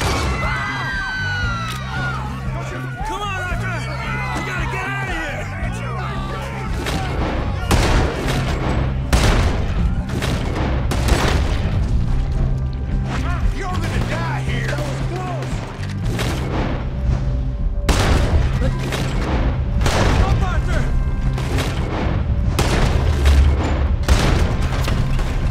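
Red Dead Redemption 2 shootout: rapid gunshots crack from several guns, bunched into volleys, over a busy backdrop of shouting and music.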